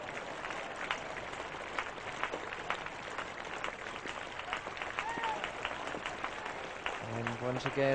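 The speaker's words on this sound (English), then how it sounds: "rolling applause around the ground" A cricket crowd at the 1998 England versus South Africa third Test applauds steadily around the ground, the distant clapping rolling on under a broadcast commentator's voice, which grows clearer near the end.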